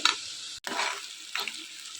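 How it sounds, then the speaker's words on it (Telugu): Onions frying in a pan with turmeric and rock salt, sizzling steadily with a few short stirring bursts and a brief gap, close and fairly loud with no voices. "కల్లుప్పు కూడా వేసుకున్న తర్వాత ఇవన్నీ కూడా గోల్డెన్ కలర్లోకి వచ్చేంత వరకు ఫ్రై చేసుకోవాలి"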